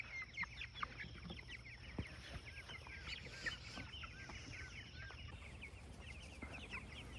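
Cornish Cross meat chickens foraging outdoors inside electric fencing, with many soft overlapping clucks and chirps in an irregular chatter, fairly quiet and with no voices.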